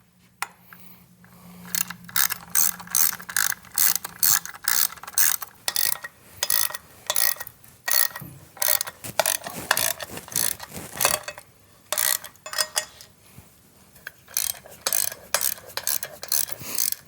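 A ratchet backs out Allen head bolts from the intake of a Milwaukee 8 Softail motorcycle, rapid clicking in repeated bursts with brief pauses, close and fairly loud.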